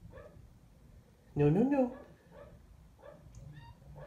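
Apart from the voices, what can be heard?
dog barking downstairs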